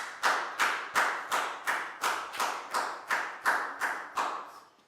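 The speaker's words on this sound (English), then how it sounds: "A round of applause for everybody doing a great job with your word problems" A single person claps in a steady rhythm in a Year 4 maths classroom, about eleven crisp, evenly spaced claps that are close and clear with nobody talking over them.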